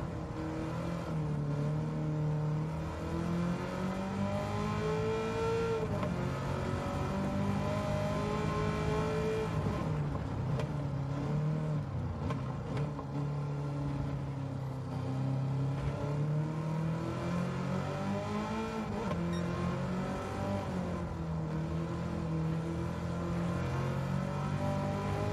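Over-tuned Chevrolet race car engine in Gran Turismo 7 revving steadily and continuously, rising and falling in pitch as it accelerates and shifts, loud and close throughout with no talk.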